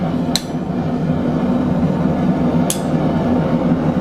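A hammer gives two light, sharp taps on metal resting on an anvil while shaping a stake cup holder. The taps ring out close and crisp over a steady low hum, spaced about two seconds apart.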